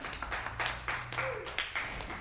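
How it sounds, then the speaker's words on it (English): An audience at a collaborative showcase claps, a run of brisk, fairly close claps in an uneven rhythm, with a voice briefly sounding partway through. "let's clap again"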